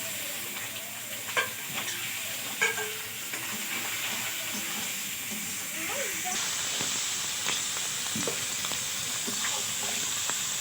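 Fish laid into hot oil in a wok, cooking with a continuous loud hiss and sizzle that stays even throughout, with a few soft knocks early on and faint voices in the background.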